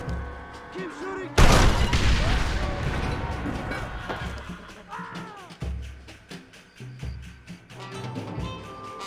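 Gunfire in a chaotic battle scene, with a loud burst near the start, then scattered shots and bangs continuing under shouted voices and other commotion.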